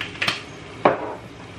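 A utensil scraping and clinking twice against a cooking pan while stirring food with eggplant and pepper, two short metallic scrapes close by, no talk.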